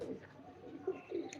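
A high-flying breed pigeon coos softly in a short, faint burst of low throaty notes over quiet background hiss.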